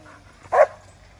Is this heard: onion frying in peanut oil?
no